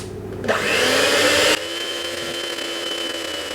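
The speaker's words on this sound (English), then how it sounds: "Don't lift it up while the rotors are whirling around because you'll get it all everywhere." Electric mixer with whirling rotors beating lemon custard cake batter, a loud steady whirring drone that runs for about a second and then drops to a quieter continuous hum.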